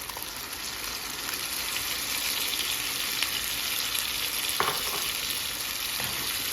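Tomato paste fries with chicken, garlic and onion in a pan, a steady close sizzle with occasional stirring scrapes and small pops throughout, no talking.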